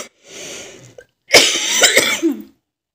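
A woman coughs in a home during household chores, first a softer muffled bout, then a loud, harsh, close run of several coughs ending in a throaty rasp.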